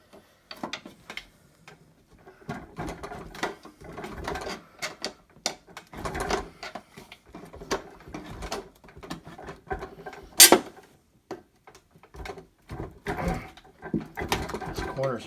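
Prying at the metal lid of a 1986 spam can of 7.62x54R Mosin Nagant ammunition, heard as irregular close clicks, ticks and scrapes with one sharp metallic snap midway.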